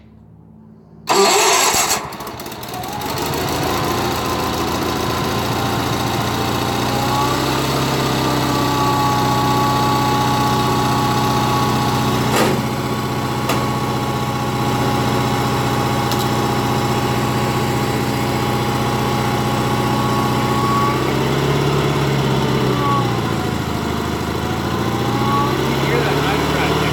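A Sears Suburban 16hp garden tractor engine cranks and catches after a sudden start, then settles into a loud, steady close-up idle with slight fluctuations in speed, and a voice talks over it.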